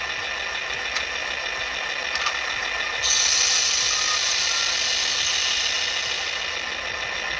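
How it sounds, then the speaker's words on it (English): A Georgia Bigfoot model train locomotive, weathered by Seaboard Central, runs on a coal-hauling layout with a steady, loud mechanical whirr and hiss, a slight rise in intensity midway, and no talk. "What kind of engine is this? This is one of the Georgia Bigfoot"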